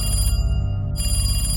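A telephone bell rings in a haunted-hospital horror story, a steady electric ring that breaks off briefly and resumes, loud and close with no voices.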